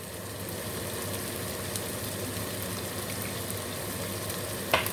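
Spices and salt are stirred into a pan of boiled chicken, a soft continuous sizzle and bubbling hiss with faint scraping and a small clatter at the end, quiet and without speech.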